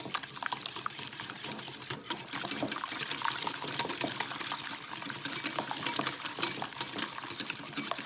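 Eggs being whisked fast for fluffy scrambled eggs: a dense, steady stream of quick metallic clicks and scrapes against the bowl, continuous and close for the whole stretch, with no talking.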